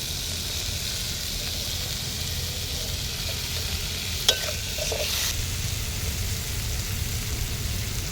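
Chopped tomato frying with spices in a pan, a soft continuous sizzle with faint stirring scrapes and one sharp clink of a utensil midway.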